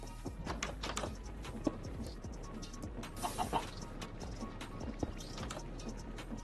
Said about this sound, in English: Go chicken go.